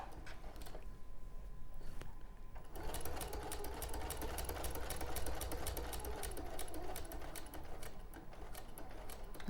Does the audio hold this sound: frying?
no